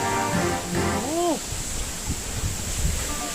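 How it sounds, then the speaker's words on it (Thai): Forest waterfall at Pa Mak rushing as a steady broadband roar, with a voice heard briefly at the start before the continuous water noise carries on alone. "ได้ยินเสียงน้ำตกไหม"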